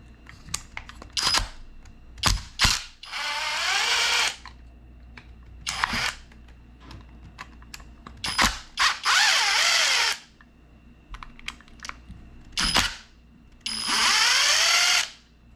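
An electric 2.5 mm hex driver backs screws out of an Arrma Vendetta RC car in a run of short whirring bursts of about a second each, close and fairly loud, separated by clicks and handling noises.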